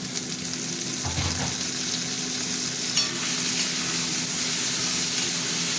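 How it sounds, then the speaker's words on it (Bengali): Prawns sizzle in a pan with onions, a loud, constant frying crackle with occasional stirring noises and no voices. "চিংড়ি মাছটা ভাজা হতে থাক"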